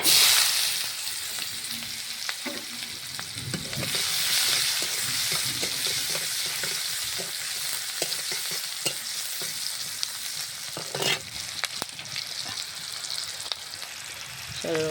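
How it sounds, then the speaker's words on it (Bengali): Chopped onions sizzle and crackle in hot mustard oil after fish has been fried in it, a steady close frying hiss that lasts throughout, with occasional stirring scrapes and louder spits near the end. "আমি পেঁয়াজ কুচিগুলো ঢেলে দেবো।"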